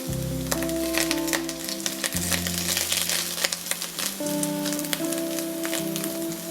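Curry leaves hitting hot coconut oil in a pan with chicken, giving a steady, close crackling sizzle with dense pops throughout, while low tonal hum and clatter sit underneath.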